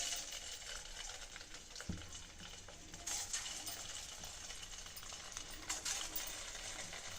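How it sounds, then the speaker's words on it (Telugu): Lentil vadas deep frying in hot oil over a low flame, a faint, steady bubbling sizzle with a few soft clinks and taps from the pan. "ఫ్లేమ్ని సిమ్లోనే పెట్టి డీప్ ఫ్రై చేసుకోవాలండి"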